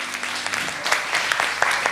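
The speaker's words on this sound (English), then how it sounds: "So let's give you a round of applause as well." Congregation at a Sunday morning church service applauding in person, a dense, continuous patter of many hands clapping that stays fairly loud and even throughout.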